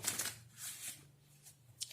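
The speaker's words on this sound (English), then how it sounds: "Let's just shuffle these cards" Soft riffling of a tarot deck being shuffled in a few quick bursts, quiet and close in a still room.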